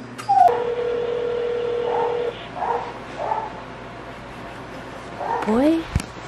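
A puppy indoors gives several short rising whimpers and yips, spaced out over a few seconds, with a steady electronic tone humming beneath the first half.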